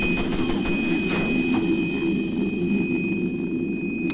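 A steady, loud droning roar of a helicopter in the video game Arma 3 fills the whole stretch, continuous and unbroken, with a thin high whine riding on top.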